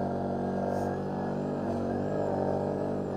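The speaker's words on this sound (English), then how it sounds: "getting those RPMs up" A quad bike engine holds high revs while riding through snow, a loud continuous drone with steady harmonic tone, close up, without much change in pitch.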